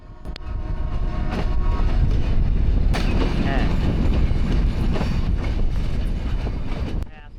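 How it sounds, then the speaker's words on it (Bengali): Train coming in and halting at Poradah railway station, a loud continuous rumble of wheels and carriages with some clanks and mechanical squeals, heard from on board and fading as it stops. "এবারে আমাদের ট্রেন এসে থামলো পুরাদা রেল স্টেশনে।"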